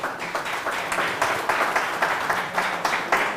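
An audience at a round-table debate on the future of viticulture in the DO Ribera applauds, with steady, rhythmic group clapping in pulsing waves, fairly close and without speech.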